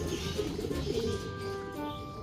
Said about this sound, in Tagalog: Inuli na po natin yung ibon natin, nakababalik lang.